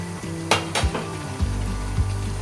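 Halved tomatoes and crushed coriander hit hot oil in a beef stew pot, setting off a steady close sizzle, with a couple of sharp clinks and knocks from a utensil against the pot.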